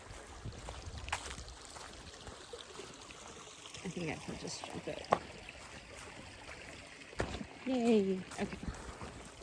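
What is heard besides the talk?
hiker crossing a shallow stream on the trail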